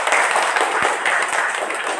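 Hands clapping in a floor gymnastics class practising forward rolls, a group clapping in a loose, quick patter with a few sharper individual claps standing out, close and fairly loud.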